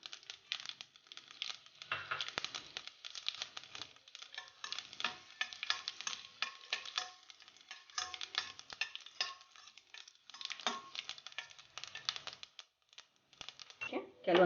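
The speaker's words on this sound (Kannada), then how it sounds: "ಸಾಸಿವೆ ಸಿಡಿತಾ ಇದೆ." A quarter teaspoon of mustard seeds and a dry red chilli crackle and sizzle in hot oil over a low gas flame, with quiet, irregular pops and stirring, partly under a speaking voice.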